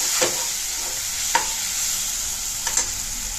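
Onions for tomato kurma sauté in a pan over a low flame, making a soft continuous sizzle with a few sharp utensil taps and scrapes and no one talking.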